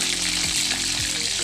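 Sweet potato chunks frying in caramelizing brown sugar for Filipino kamote cue, a steady dense hiss of bubbling oil with a couple of low scraping stirs, close and continuous.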